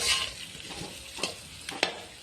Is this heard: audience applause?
no